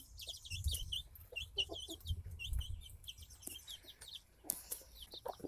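Chickens cluck and chirp in a small backyard flock, with busy overlapping calls close by and soft scratching and rustling underneath.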